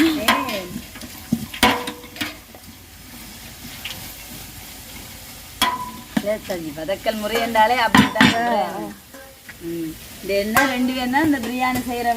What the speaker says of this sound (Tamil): நல்லா மிக்ஸ் பண்ணி விடுவோம் இந்த கலவையோட இந்த பச்சை வாசனை போகும் நல்ல வதங்கி எடுப்போம்